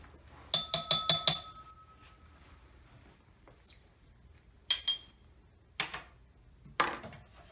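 Granular humate product is poured into glass beakers, a quick burst of rattling clinks followed by several shorter separate pours and taps against glass, close and sparse against near silence.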